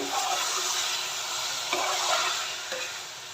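Val beans with potatoes and tomato stirred in a pot, a soft, steady sizzle with occasional scraping strokes of a spoon, close and fairly quiet, with no voices.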